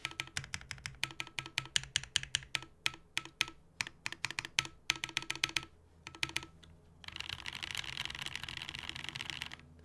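Prototype mechanical keyboard typed on in quick uneven bursts of crisp clicks, close and clear, pausing briefly before a denser flurry of keystrokes at the end.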